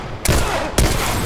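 Two sharp, loud blasts about half a second apart in the video game The Last of Us: Left Behind, each a sudden burst trailing off into rumbling combat noise.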